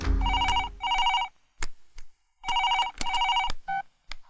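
An outgoing phone call rings on the line: repeated electronic ring bursts in paired rhythm, separated by short silences and a few clicks, loud and alone.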